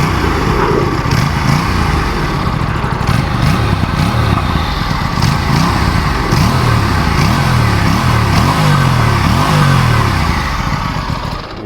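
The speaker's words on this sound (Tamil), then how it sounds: "இதை பாருங்களேன், நான் இதை வந்து ரெவ் பண்ணுறேன்." An Aprilia RS 457 motorcycle engine revs hard nearby, a loud continuous rumbling drone with rising and falling pitch sweeps as the throttle is blipped repeatedly, filling the whole stretch without speech.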